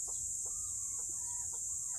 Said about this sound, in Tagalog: O yun, aming inahin namin yun eh.